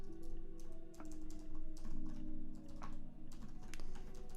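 Steady typing on a computer keyboard during a coding explanation, with a dense run of quick key clicks over a low constant hum and no talking.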